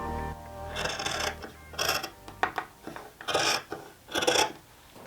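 Scissors cut through pants fabric to trim off a leftover corner, several short bursts of rasping snips separated by pauses, close up and moderately loud, no talking.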